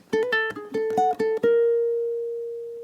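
A short gypsy jazz waltz phrase plucked on ukulele, a quick run of bright separate notes played alone that settles onto one long ringing note that slowly fades.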